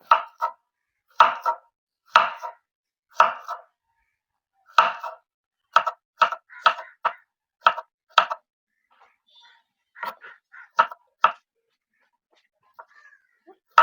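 A knife chops plantain for sharkkara upperi in quick rhythmic clusters of sharp cuts on a board, with short pauses between the bursts and a lighter patch toward the end.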